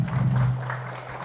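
Audience applause breaks out at an evening Islamic religious gathering, a dense, steady wash of clapping from a crowd under a low hum.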